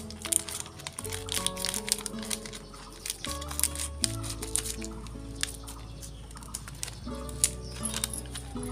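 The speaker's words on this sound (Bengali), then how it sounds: "তো এই যে আমি প্যাকেটটা খুললাম।" A packet of lotus seeds is torn and opened by hand, its soft plastic crinkling in small close bursts beneath steady background music.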